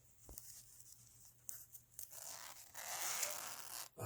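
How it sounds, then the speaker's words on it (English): A purse zipper being pulled open partway, a short scratchy, tearing run of teeth rising to a steadier rasp near the end, close and fairly quiet with no talk. "let's open the zipper about 3/4 of the way"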